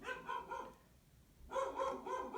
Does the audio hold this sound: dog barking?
yes